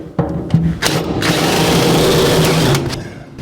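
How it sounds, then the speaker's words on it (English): A spot weld drill bit cuts through spot welds on a 1949 Chevrolet gasser, a steady close high-pitched drill whine that runs for about three seconds after a few short starting bursts. "we'll take a spot weld drill bit, which is nothing more than a bit that's got a sharp point on it and a very shallow step on it"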